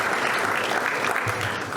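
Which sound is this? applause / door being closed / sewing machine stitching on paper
applause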